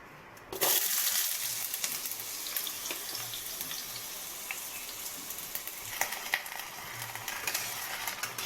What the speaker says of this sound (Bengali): প্রথমে আমি ইঁচড় আর আলুটাকে একটু ভেজে নেব।